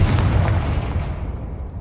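A Confringo blasting spell from Hogwarts Legacy goes off in one heavy, booming blast that rumbles and fades away over under two seconds.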